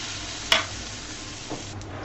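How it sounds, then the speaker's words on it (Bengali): Semolina batter hits a hot pan with a sharp, brief burst of sizzle, then a steady low frying hiss continues with a small second flare near the end; no one speaks. "দিয়ে দিব আমি 1 ঘাটা ব্যাটার।"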